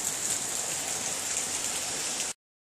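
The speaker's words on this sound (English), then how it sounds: "it's raining pretty good now" Steady rain pours at a national park visitor center in Grand Portage, Minnesota, a continuous even hiss with no other sounds that cuts off abruptly near the end.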